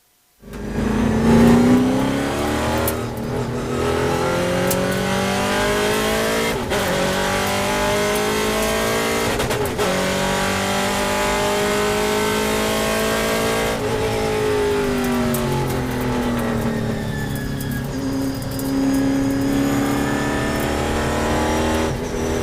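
Race cars roar off the start of a race together, engines revving hard and climbing through gear changes in a loud, continuous wall of sound, with occasional shifts and dips in pitch.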